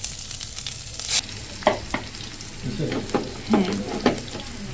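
Tomatoes go into a pan of frying tuna fish curry with onion and green chili, a low steady sizzle broken by several sharp scraping stirs, with a brief word spoken.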